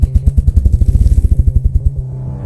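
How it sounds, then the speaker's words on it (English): A ruffed grouse drumming with its wings: deep, loud thumps that begin spaced apart and speed up steadily until they blur into a low, rolling buzz that fades out, with no voices over it. "The grouse beats the air so fast it creates a tiny vacuum, and the thumps roll into a low buzz."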